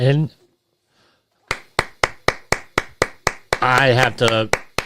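At an address on a vaccine executive order, a string of sharp, evenly spaced claps rings out in a steady rhythm, with a voice speaking before and over the final claps.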